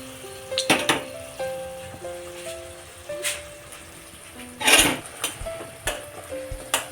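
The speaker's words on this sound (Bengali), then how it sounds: "এভাবেই আমি সবগুলো ভেজে নেব।" Khaja pastry frying in hot oil crackles and sizzles softly, with scattered clinks of a utensil against the pan and a few louder bursts of bubbling in a quiet home kitchen.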